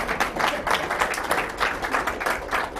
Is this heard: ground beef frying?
no